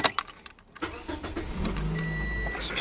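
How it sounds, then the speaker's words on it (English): A Scion compact car's engine cranks and catches after a jangle of keys, then settles into a steady idle hum, close and fairly loud with no talking. "So start the car"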